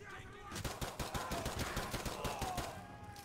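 Rapid pistol fire from an M9 in Call of Duty: Modern Warfare 2 Campaign Remastered, a fast string of sharp, evenly spaced shots at moderate loudness over game background sound.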